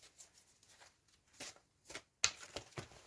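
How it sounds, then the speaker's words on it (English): Archetype tarot cards are shuffled by hand in a quiet room, a series of soft, brief riffling and flicking bursts with one sharper snap, faint and close, without talking. "I'm just going to shuffle these archetype cards"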